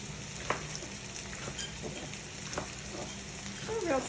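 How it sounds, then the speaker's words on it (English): Small-cut onions frying in a pan, a quiet continuous sizzle with a few soft clicks of stirring and a faint spoon scrape toward the end. "Have some onions cooking in there."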